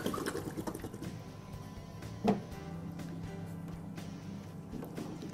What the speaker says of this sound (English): And you flush the toilet to reduce the water level.